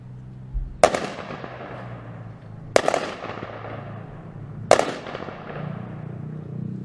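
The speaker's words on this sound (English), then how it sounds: "Firing squad, prepare to fire." A Memorial Day firing squad fires three separate rifle volleys, a few seconds apart, each a sharp loud crack ringing out and fading outdoors.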